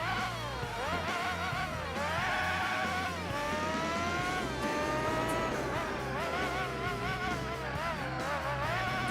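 A Formula GT race car in Gran Turismo 4 screams around the Laguna Seca circuit, its engine pitch rising and falling through gear shifts and corners, with tire squeal mixed in, loud and continuous throughout.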